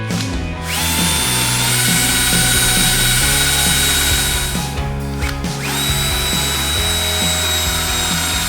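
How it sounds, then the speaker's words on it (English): A power drill whines loudly and steadily, boring through material at a house build in the Philippines, with a brief pause midway before drilling resumes. "we'll start drilling some holes and see how everything fits"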